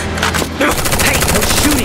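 Rapid automatic gunfire rattles in a Final Fantasy VII Remake battle, a dense burst of shots running throughout alongside game effects and a shouted voice.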